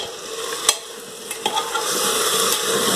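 Chicken and rice frying in a pan are stirred for a seated sizzle, with steady frying hiss throughout and a few sharp utensil scrapes against the pan.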